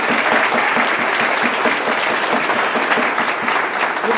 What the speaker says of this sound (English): Would you give this lady a nice round of applause?